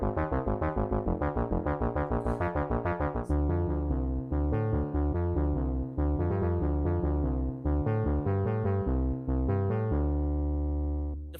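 A Behringer UB-XA synthesizer's arpeggiator steps through rapid, evenly pulsing note patterns that climb and shift, a bright, full analog tone playing steadily and alone before a final held note.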